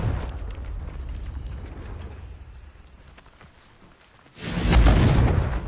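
A Confringo fire spell exploding in Hogwarts Legacy, arriving after a stretch of low rumbling ambience as a sudden loud, dense blast that holds as a roaring burst to the end.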